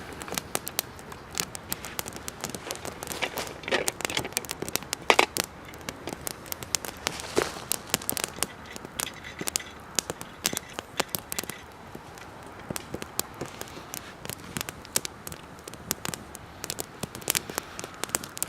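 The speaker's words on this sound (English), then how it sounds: "There's the fire going." A small campfire at a minimalist hammock camp on a cold night, with dense irregular snaps and pops crackling close and steady over a soft hiss.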